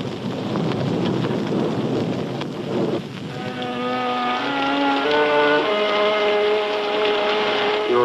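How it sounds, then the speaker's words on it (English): A thunderstorm with steady rain rumbles loudly throughout, with thunder rolling under a continuous wash of rain and no talk. "Looks like rain."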